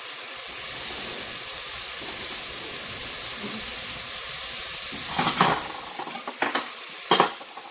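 Mushrooms being lifted out of a pot of hot, sizzling juices while cooking Italian-style roast pork: a steady hiss and simmer throughout, with a few sharp scraping and clattering bursts near the end as utensils work in the pot.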